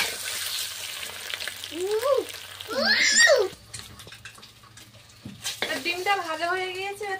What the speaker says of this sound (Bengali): ডিমটা ভাজা হয়ে গিয়েছে, আর তুলে নিচ্ছি।